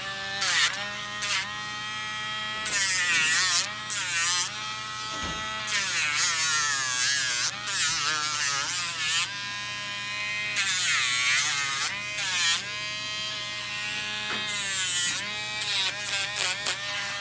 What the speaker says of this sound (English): And then I'm going to go in with the Dremel, and we're going to round these nails out so they're not super sharp.